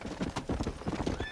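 Horse in Red Dead Redemption clip-clopping at a quick gallop with a whinny, steady hoofbeats close and loud with game ambience behind.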